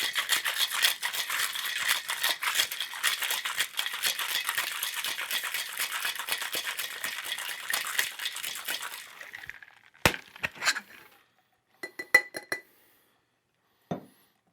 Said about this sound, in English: Let's give this a shake and make it cold.